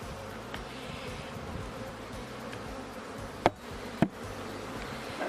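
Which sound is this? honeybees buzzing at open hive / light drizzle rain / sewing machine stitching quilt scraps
honeybees buzzing at open hive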